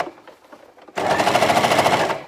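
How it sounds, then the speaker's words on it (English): A sewing machine stitches a seam, its motor starting abruptly after a quiet moment and running in a steady, loud, fast whirring rattle close by until it stops. "and I'm going to start sewing."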